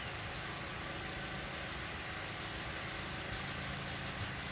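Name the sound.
rattle from idling Toyota Auris engine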